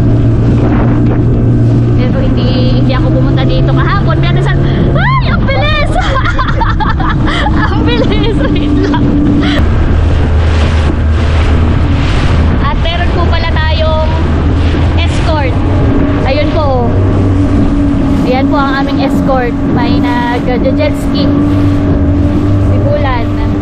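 Rubber boat speeding across the sea, its outboard motor droning steadily with pitch shifts, hull slapping over bumpy water and wind buffeting the mic, while people talk and exclaim throughout.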